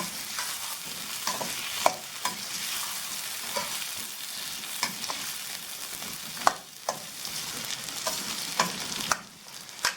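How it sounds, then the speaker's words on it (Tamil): Brinjal being gently sautéed in oil for an oil brinjal kuzhambu, a steady sizzle with sharp scraping clicks of a spatula stirring the pan at irregular intervals, close by and with no talking. "கத்திரிக்காய் வந்து உடஞ்சி போயிடாம லைட்டாக வந்து இந்த எண்ணெயில் வந்து லேசாக பரட்டி விட்டுக்கிடுவோம்"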